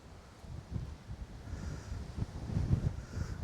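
Strong wind buffets the microphone on a rocky hilltop at Samanar Hills near Madurai, a steady, rumbling roar rising in gusts, close and fairly loud, with no voices.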